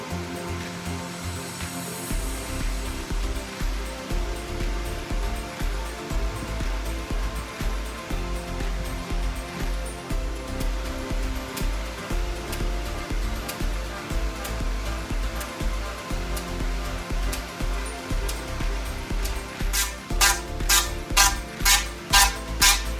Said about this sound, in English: The machined piece here simulates a 500 mm diameter post to test machining on a large diameter.